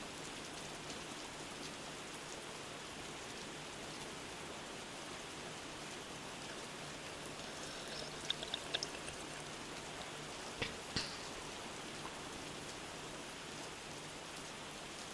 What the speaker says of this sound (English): And like the rain hitting the trees.